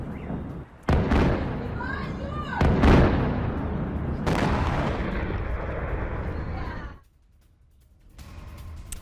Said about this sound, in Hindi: रूसी मिसाइल गिरने से जोरदार धमाका हुआ